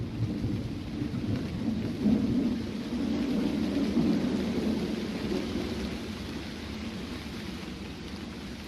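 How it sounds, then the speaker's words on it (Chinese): Thunderstorm with rain, a low rolling rumble of thunder swelling in the middle and fading, over a steady hiss of rainfall, moderately distant with no talk. "又下雨了。"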